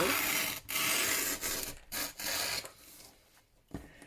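Paper images being torn along a tear ruler, a close rough rasping rip that stops and restarts several times, fairly loud, without talk.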